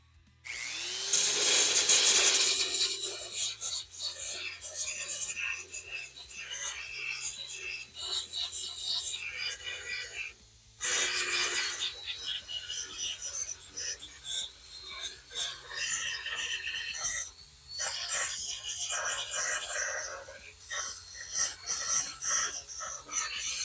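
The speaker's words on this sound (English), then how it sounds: "I'm going to take the belt sander here and clean up the" Belt sander grinding down spot welds on a Volkswagen quarter panel during restoration bodywork, loud and continuous with brief pauses where the tool lifts off the metal, heard up close with no talk.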